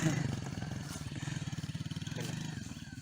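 A Musstang Alpha motorcycle runs after a repair, its engine giving a steady, pulsing putter close by that rises and falls slightly, with a voice talking over it.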